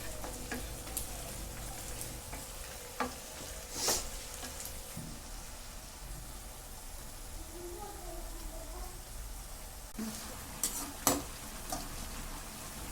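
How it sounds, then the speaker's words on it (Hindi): Almonds and cashews frying with softened onions in a pan for a Mughlai chicken changezi, giving a low steady sizzle with a few scattered spoon scrapes and taps, quiet and close, with no talking. "अब इसमें बादाम और काजू डालकर थोड़ी देर फ्राई करेंगे।"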